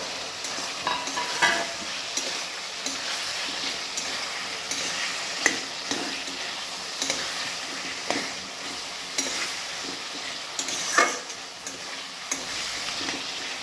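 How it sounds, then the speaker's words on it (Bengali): A spice masala of melted tomatoes and fried potatoes sizzles steadily in a pan, with repeated clicks and scrapes from stirring and no voices. "মশলাগুলি যখন পুরোপুরি ভেজে যাবে আর টমেটোগুলি গলে গেছে দেখুন, তখন আমরা মশলাটাতে ভাজা আলুগুলো দিয়ে দেবো।"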